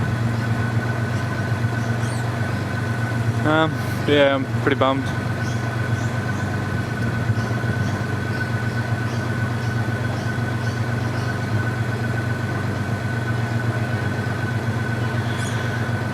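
A car engine idles steadily with a low, constant hum throughout, while a person speaks briefly near the start.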